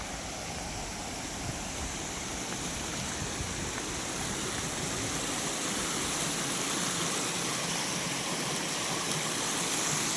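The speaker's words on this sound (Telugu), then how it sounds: "చిన్న వాటర్ ఫాల్ ఉంది," A small waterfall beside a small dam rushes in a steady, loud, unbroken roar of falling water heard up close for the whole stretch.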